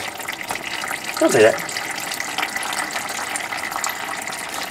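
Thin, watery oil drains from a Can-Am Renegade ATV engine in a steady trickling pour, a brief splashy gurgle rising midway, while people talk nearby.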